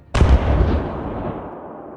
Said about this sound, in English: gunners manned the large deck cannon and opened fire.